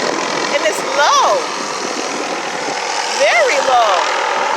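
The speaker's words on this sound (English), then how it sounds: "Wow, that helicopter is actually low." A helicopter flies low overhead, its steady, loud rotor and engine roar filling the whole stretch while someone speaks over it.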